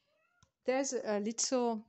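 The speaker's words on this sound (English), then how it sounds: "that's my cat in the background" A cat meows twice in the background of a room, the drawn-out cries fairly loud and harmonic, with a brief snippet of speech just before them.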